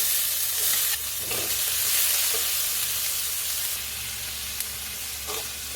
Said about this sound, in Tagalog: lagay natin oil. Lagay natin yung garlic. Yung sibuyas.